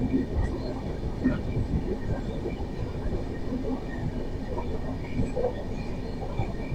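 The Falaknuma Superfast Express passenger train, travelling from Secunderabad toward Puri, rumbles steadily along the tracks with a continuous low roll and faint rhythmic clatter, heard from inside the moving train.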